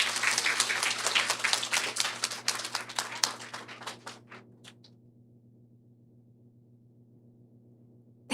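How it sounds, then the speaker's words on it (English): An audience applauds students and teachers at a live event: brisk dense clapping that thins out into a few scattered claps and fades to silence over several seconds. "A big round of applause to everyone."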